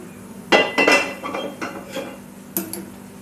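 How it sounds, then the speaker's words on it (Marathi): A metal lid lifted off an idli steamer pot gives a few sharp clinks and clanks close by, followed by a couple of lighter taps. No one speaks. "पंधरा मिनटं झालेले आहेत आपण आता झाकण काढून बघू"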